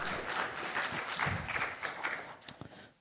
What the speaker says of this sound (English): Let us give a round of applause for both teams.